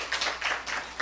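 A church congregation claps during a Sunday service in Seoul, producing a brief, faint patter of several soft hand claps with no talking.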